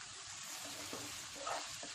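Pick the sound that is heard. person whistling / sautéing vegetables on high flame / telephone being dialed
sautéing vegetables on high flame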